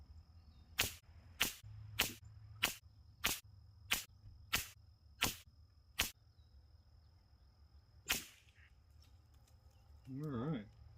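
Ten evenly spaced sharp cracks from a CZ457 rimfire rifle with a KI Precision barrel, fired during ammo testing, ring out one after another at steady intervals, followed by a short burst of speech near the end.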